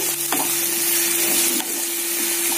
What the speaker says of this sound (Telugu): ఆనియన్స్ వేసుకున్నాక ఆనియన్స్ని బాగా ఫ్రై చేసుకోవాలి